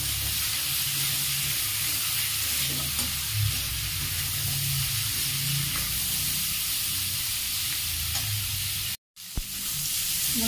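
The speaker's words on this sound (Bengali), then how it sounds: "ভাজা প্রায় হয়ে আসছে, আর একটু হবে।" Beetroot sizzles steadily as it fries with salt and turmeric in a pan, a constant close hiss with light stirring scrapes and a brief cut near the end.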